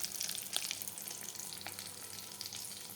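Egg chops fry gently in oil, giving a soft, continuous crackling sizzle with small pops and bubbling, heard close and fairly quiet for a few seconds.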